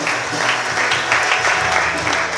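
Applause from a church congregation during a Portuguese-language sermon, a steady dense wash of clapping filling the room throughout, with some voices mixed in.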